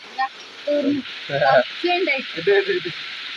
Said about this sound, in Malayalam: നല്ല മഴയാന്ന് കേട്ടാ അടിപൊളി മഴ